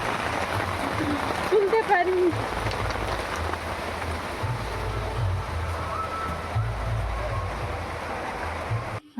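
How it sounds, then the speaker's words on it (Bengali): Steady rain falls on a village garden and yard, a continuous hiss with dripping through the whole stretch; a person speaks briefly near the start over the downpour. "এদিকে বৃষ্টি পড়ছে"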